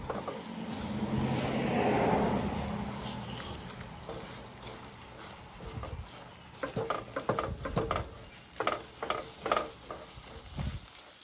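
Breakfast food sizzling in a Lodge carbon steel pan at a camp cooking setup: a steady frying hiss that settles, then scraping stirs and clatters of a utensil against the pan.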